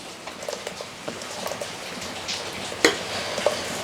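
Blended passion fruit juice is poured into a large sieve, making a soft, irregular patter and trickle like light rain, fairly faint, with a sharper clink near the end.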